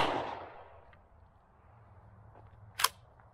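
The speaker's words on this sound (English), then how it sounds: "There's our three rounds of the Piranha shell that shoots small nails" A single sharp, close gunshot cracks out from a shell loaded with small nails, called a Piranha shell. Before it, the tail of an earlier blast fades into quiet.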